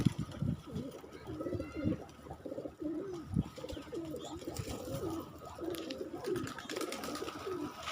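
Pigeons of many colours cooing steadily and close by, overlapping soft throaty coos repeating throughout with no talk.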